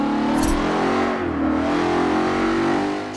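A race car in Forza Motorsport 7 accelerates during an autocross run, its engine a loud, close, continuous drone that climbs in pitch, dips briefly around a shift, and keeps pulling.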